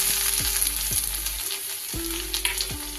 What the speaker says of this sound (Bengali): ভাজা ভাজা হয়ে যাবে